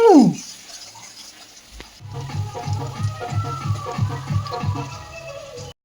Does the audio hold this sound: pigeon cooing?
no